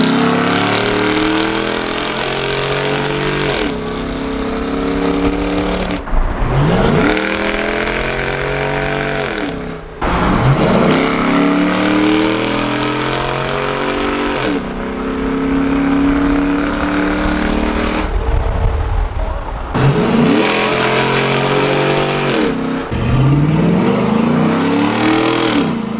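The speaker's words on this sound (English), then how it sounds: "This is a test of what it's like to drive full throttle, like with the bridge." A Ford Raptor fitted with a Corsa exhaust pulls hard at full throttle, its engine rising through repeated gear shifts with a loud, continuous roar heard from inside the vehicle.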